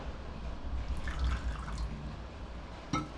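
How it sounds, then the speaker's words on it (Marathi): Water dribbles and drips into chilli paste being ground, soft and close, with a small splash near the end against a low steady background. "थोडं पाणी घालूया"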